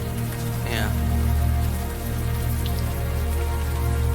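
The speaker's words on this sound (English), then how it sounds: "Now that it's out in the open air, the warm rain is coming down." Warm rain pours down steadily in the adventure game Unavowed, an even wash of falling water over low steady hum tones, continuous and close throughout.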